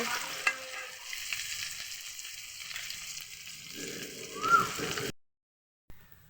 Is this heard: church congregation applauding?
no